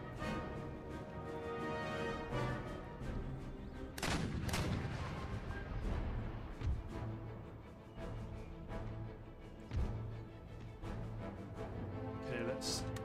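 Artillery and musket fire in the historical strategy game Empire: Total War, a dense battle din of booms and crackling volleys with louder blasts rising out of it, beneath a voice.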